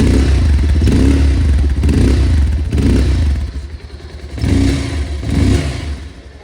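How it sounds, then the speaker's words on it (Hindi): A Bajaj Pulsar 220F motorcycle engine revs up repeatedly in a series of throttle blips, each rising and falling roughly once a second over a steady idle, loud and close with no talking. "पल्सर 220 का साउंड है।"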